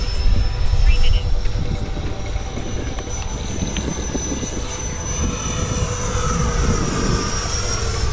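FMS Viper 70mm V2 RC trainer jet, an electric ducted-fan model, flying in gusty wind, its steady high whine and rushing roar continuous and fairly loud throughout, with wind noise in the background.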